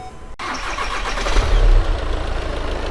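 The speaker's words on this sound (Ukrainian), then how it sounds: "Перший запуск після заміни ГРМ." A car engine, on its first start after a timing belt replacement, cranks and catches, then settles into a steady, close idle with a slight rev.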